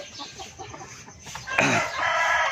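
Crowing from a Black Australorp and Texas crossbreed rooster on a backyard farm, a loud, drawn-out call that swells after a stretch of softer clucking and low background noise.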